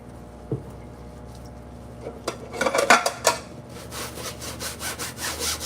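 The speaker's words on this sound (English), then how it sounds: "you guys are going to help me do the dishes here." Dishes being washed by hand in a home kitchen, with scattered clinks and scraping of pots, plates and cutlery and a rising stretch of rubbing and scrubbing, close and moderately loud, with no voices.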